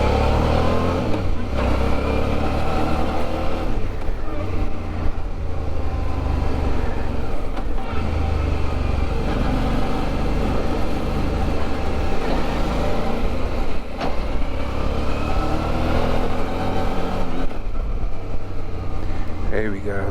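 A Suzuki V-Strom 650 motorcycle accelerates along a road, its engine drone and rushing wind noise loud and continuous throughout, with no breaks.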